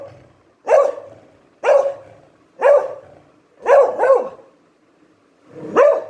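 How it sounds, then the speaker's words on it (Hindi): A dog barks while waiting to be fed, giving six sharp, loud barks spaced roughly a second apart, with a quick double bark in the middle, close by and with no talk over them. "रुक जा रुक जा, गंदा डॉगी, ए गंदा डॉगी।"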